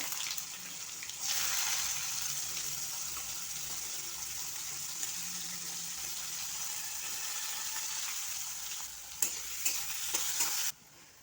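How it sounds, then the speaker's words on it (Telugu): Carrots frying in oil with mustard seeds and cumin give a steady, dense sizzle close by, which jumps in loudness after about a second and ends with a few clattering stirs. "ఆవాలు జీలకర్రీ ఫస్ట్ నేను అనేది క్యారెట్ ఫ్రై చేసుకుంటా"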